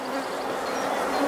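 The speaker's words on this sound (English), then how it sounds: "as soon as you open the gap to let one bee out, then another bee gets caught in there" Honey bees buzz steadily at an open top bar hive, a dense, continuous hum close by with no pauses or talk.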